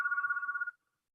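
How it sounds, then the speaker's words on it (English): From the rear of a lecture hall comes a single short burst of telephone ringing, an even warbling tone that stops abruptly, quiet and with no talk over it. "Pardon the phone at the back."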